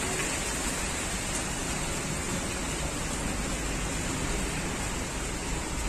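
Steady, heavy rain falling in Karachi, Pakistan, a dense even hiss that continues unbroken throughout.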